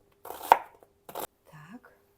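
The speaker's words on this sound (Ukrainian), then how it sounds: "Знову нарізаю цибулю." A few sharp knife chops cut an onion on a cutting board, two distinct cuts close up, followed by a brief softer scrape.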